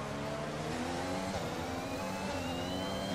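An F1 race car in the F1 2021 game screams at high revs during an overtake, a steady, dense engine whine with a rising pitch and faint tyre noise and no voices.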